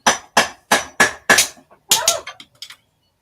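Hammer blows ring out in a quick, even rhythm of about five strikes, then a short pause and a few more uneven hits. The strikes are sharp and fairly close, with silence between them.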